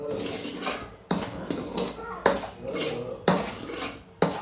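Semolina being dry-roasted in a pan, stirred with a utensil that strikes the pan in sharp metallic knocks roughly once a second, with soft scraping in between.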